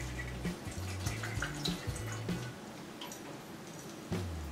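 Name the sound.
pouring almond milk or water into a saucepan of oats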